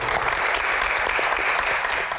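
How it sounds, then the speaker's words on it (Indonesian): A crowd at a Q&A session breaks into dense, loud applause, a continuous wash of overlapping claps that fills the space without a break. "Widih, tepuk tangan dulu dong."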